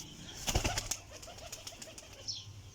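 A Teddy flying pigeon flaps its wings in a quick close burst, then gives a string of soft, low coos, faint and alone.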